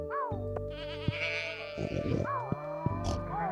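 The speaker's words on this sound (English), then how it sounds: "All the pig sounds." Farm-animal calls from the video game Stardew Valley, pig sounds among them: several short wavering, bleating cries rise over steady background game music, repeating at irregular intervals.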